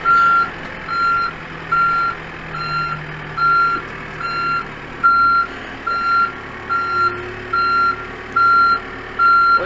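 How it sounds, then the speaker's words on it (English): A backhoe's reversing alarm beeps loud and close in a steady, evenly spaced series of about a dozen tones over a low engine rumble. "Good God, I hate that beeper."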